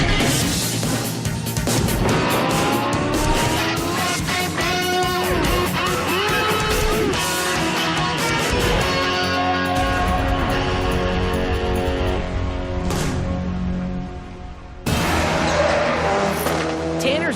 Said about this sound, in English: Tanner tries to outrace our virtual cars 90 miles an hour through turn 5